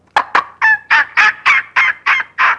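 A mouth call imitates the basic yelp of a wild turkey hen with a close, loud series of about nine evenly spaced, raspy notes and no talking.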